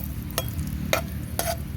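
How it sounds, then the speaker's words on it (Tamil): Raisins fry in ghee in a kadai with a soft sizzle, and three short scraping strokes mark the stirring. "திராட்சையை வந்து நல்லா நெய்யில் கொஞ்சம் வறுத்துட்டேன்."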